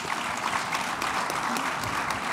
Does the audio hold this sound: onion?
no